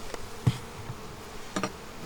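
Honey bees buzzing around beehive frames while a beekeeper works the hive, a soft steady hum with a few faint knocks of frames being handled, close and quiet.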